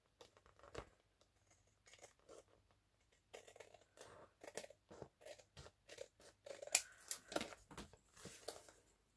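Scissors snipping through paper while making a flip-flap envelope, a series of close, quiet crisp cuts in uneven bursts, growing busier toward the end.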